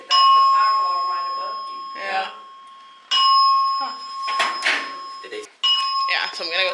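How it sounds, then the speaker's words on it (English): A fire alarm mounted overhead in a Toronto building blares in loud, close, steady-pitched tone bursts that restart every few seconds, with voices talking in between. "It's a fire alarm because that's the fire alarm right above you."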